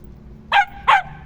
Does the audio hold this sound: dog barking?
yes